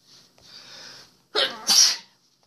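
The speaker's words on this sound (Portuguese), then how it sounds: "Tá até espirrando." A single close sneeze with a breathy wind-up followed by two sharp bursts, loud and clear in a quiet room with no talk.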